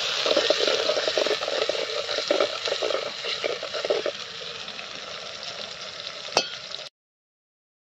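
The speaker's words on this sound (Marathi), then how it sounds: "आपल्या कांद्याला असा तेल टाकून चांगला परतायचा आहे" Chopped onion sizzles and crackles steadily in hot oil for a mutton tripe (vajdi) curry, a dense close frying hiss with a sharp clink near the end before cutting to silence.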